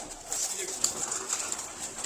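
Soft pigeon coos from a rooftop loft holding around eighty pigeons for sale, faint and intermittent against a steady hiss.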